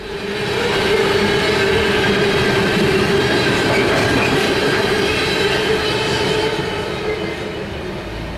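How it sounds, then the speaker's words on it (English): A coal train rolls by at Olmsted Falls, Ohio, a loud, continuous rumble of wagons with wheel clatter and faint squeal holding steady throughout, no voices. "it was really cool to see this coal train, though."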